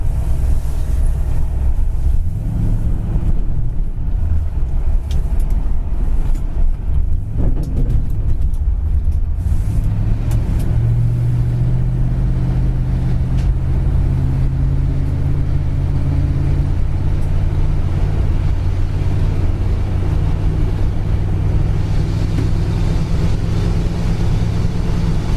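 A tan 1964 Chevrolet Impala cruises down the road, heard from inside as a steady low engine and road rumble with a rising drone that holds throughout, loud and continuous, with no talking.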